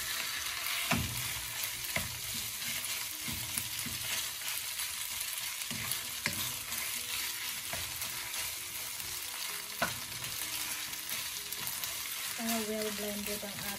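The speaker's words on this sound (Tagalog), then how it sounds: "Stir lang natin sa mga sibuyas." Onions frying and being stirred in a pan for beef stroganoff, a steady close sizzle with scraping stir strokes throughout, no talking.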